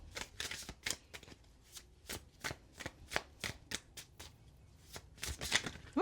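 Oracle cards being shuffled, a rapid series of crisp riffling flutters and soft slaps repeating about every half second, close and fairly quiet with no voices.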